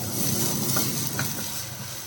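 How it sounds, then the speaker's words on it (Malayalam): Kashmiri chili powder and spices sizzling in hot oil in a pan, a steady close hiss with faint stirring scrapes, no voices. "ഇതെല്ലാം കൂടെ പച്ചമണം മാറുന്ന വരെ ഒന്ന് ചൂടാക്കാം"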